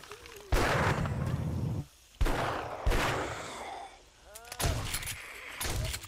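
Shotgun blasts in the zombie survival game 7 Days to Die, several loud booming shots spaced irregularly, with brief gaps between them and faint game noise underneath.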